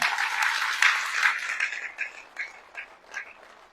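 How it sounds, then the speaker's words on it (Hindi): An audience at a network marketing talk claps loudly at first, then the applause thins into scattered, fading claps. "तो एक बार जोरदार ताली बजाओ दोनों हाथों से।"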